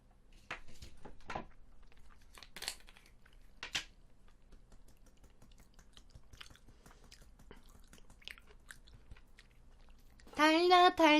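Someone eats truffle abalone porridge, with a few soft, close chewing and biting sounds scattered over quiet moments before a voice cuts in at the end.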